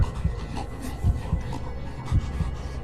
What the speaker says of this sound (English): You hear creepy breathing behind me.